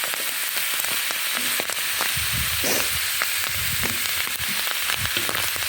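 Mushrooms sizzle in a pan with about 70 grams of butter, a continuous bright frying hiss with occasional soft pops and stirring bumps, close and steady.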